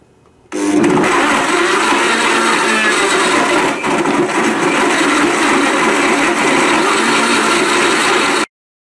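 A blender runs on high, blending bananas with mango yogurt into a smoothie; a loud, steady motor whir starts abruptly, holds constant for about eight seconds with a brief dip, then cuts off sharply.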